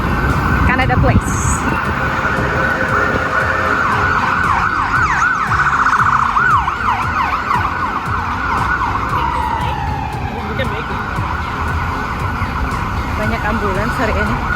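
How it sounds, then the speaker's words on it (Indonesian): An ambulance siren wails on a downtown Vancouver city street, its rising and falling tone sweeping repeatedly over traffic rumble, loud and nearby before fading slightly, with a voice speaking over the street noise. "Banyak ambulans hari ini."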